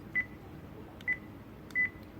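A Sony ICD-PX370 voice recorder gives three short, clear electronic beeps, spaced about a second apart, over a quiet background.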